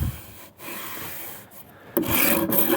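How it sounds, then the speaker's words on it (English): A Shinto rasp shaves a wooden axe handle in a few long, rough strokes with short pauses between them, heard close and growing louder and brighter on the final stroke. "I really enjoy working with a Shinto rasp. It's by far my most used rasp."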